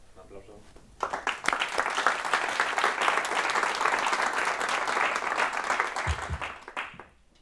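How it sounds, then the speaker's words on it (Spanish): An audience applauds after a Python talk about virtual assistants, sustained dense clapping that starts abruptly after a brief quiet moment, holds steady, then tapers off quickly, with faint voices underneath. "Un aplauso."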